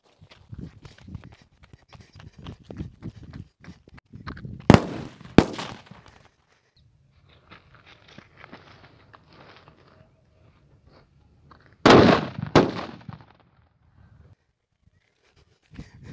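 Sivakasi Diwali firecrackers set off by a machine, sharp loud cracks going off in two bursts amid scattered crackling, clicks and handling noise, with quiet gaps between.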